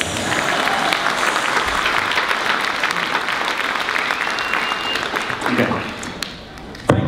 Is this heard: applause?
yes